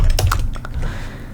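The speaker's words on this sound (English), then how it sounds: "give you typing noises and more tingles" Fingers tap out a quick burst of keystrokes on a computer keyboard while coding JavaScript, crisp close clicks that thin out into a few sparse taps.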